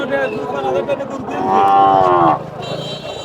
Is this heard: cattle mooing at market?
yes